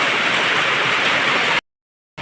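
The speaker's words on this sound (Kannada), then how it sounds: "ಮಳೆ ಬರ್ತಾ ಉಂಟು" Steady, dense rain falling hard, a continuous close hiss that cuts off abruptly into silence near the end.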